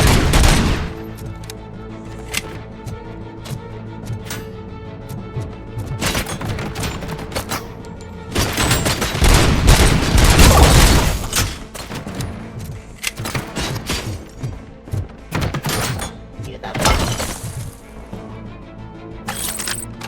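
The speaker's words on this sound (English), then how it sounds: "Too bad they're shooting at me." Gunfire in the video game RoboCop: Rogue City, dense bursts of rapid shots and heavy thuds that swell to a loud barrage midway, then break into scattered single shots.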